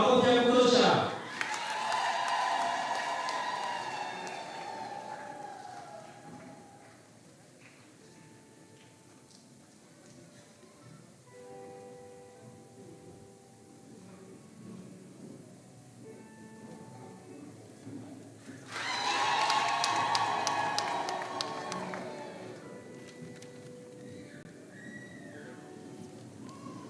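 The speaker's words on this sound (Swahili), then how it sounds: "Makofi ya kutosha." A parish audience at a tenth-anniversary missionary celebration bursts into applause twice, loud clapping mixed with whistles and cheers that fades, then a second strong round later on, with speech between the bursts.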